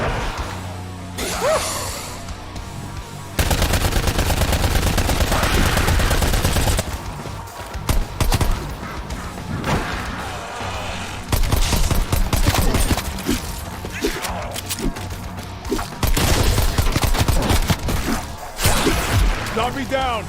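Dense bursts of automatic gunfire and explosions from Call of Duty Warzone, loud and nearly continuous, with a voice talking over the action.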